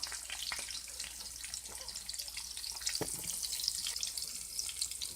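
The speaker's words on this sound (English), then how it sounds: "I'm actually gonna flip my bacon right now." Turkey bacon fries in a pan with a faint, continuous crackling sizzle, marked by a few brief clunks and one sharper knock near the middle as the strips are flipped.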